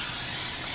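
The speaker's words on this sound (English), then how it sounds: "If you ain't hearing that sizzle, that means your pan or your grill is not hot enough" Cajun-seasoned deer meat sizzles in a hot pan, giving a loud, steady hiss that crackles evenly throughout, with no voices over it.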